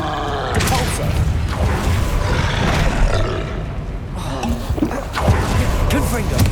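Casting Depulso in Hogwarts Legacy produces dense, loud game audio: roaring, rumbling bursts and whooshing effects that keep a constant backdrop, with voices heard over it.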